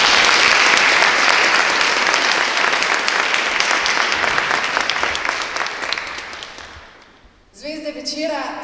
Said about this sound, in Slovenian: Iskrene čestitke in glasen aplavz za Nikovo knjigo